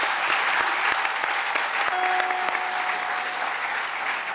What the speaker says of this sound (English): One more round of applause, huge round of applause for our young dancer today.